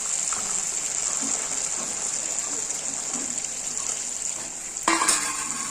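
Green peas tipped into masala frying in oil, giving a steady close sizzle with scraping stirring and a louder burst of hiss near the end.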